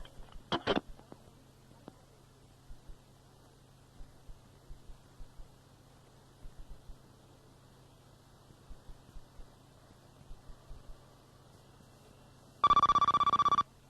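A telephone rings for an incoming call to a 1997 radio talk show, one loud electronic ring burst near the end after a quiet stretch of faint clicks and hum.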